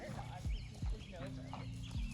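A horse cantering in an arena, with rhythmic hoof thuds and soft nose fluttering snorts at a steady pace, close by, with a person speaking over it.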